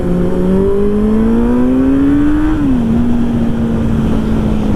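A 2015 Kawasaki Z800 motorcycle engine revs steadily higher and loud, its pitch climbing over a few seconds before dropping slightly and settling into a sustained high drone, with no talking.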